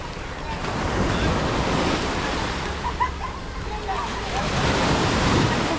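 Surf rolls onto Miami Beach at Batu Ferringhi in Penang, a steady close wash of breaking waves mixed with wind buffeting the microphone, continuous and fairly loud throughout.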